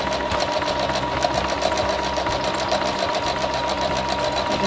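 Sewing machine stitching fabric piping into a bowl, a close, steady, fast mechanical whir with an even rhythmic clatter throughout and no talking.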